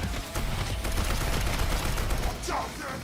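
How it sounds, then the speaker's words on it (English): Rapid bursts of gunfire from a video game trailer, with dense overlapping shotgun-like blasts over a continuous loud backdrop, followed by a brief whooshing sweep near the end. "Shotgun."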